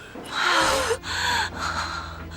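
A sharp, loud gasping intake of breath near the listener, followed by a couple of heavier, rasping breaths as someone revives from unconsciousness in a palace drama.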